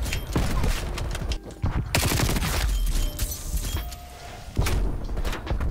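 First-person shooter gunfight with rapid, dense bursts of automatic fire and scattered impacts, loud and close, continuing in waves with brief pauses.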